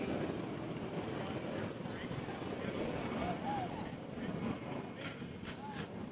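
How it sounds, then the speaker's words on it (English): A jet airplane passes overhead outdoors during a basketball coach's interview. Its loud, broad roar fills the whole stretch with a steady rumble, and faint voices sit underneath. "Let's wait this airplane pass over us."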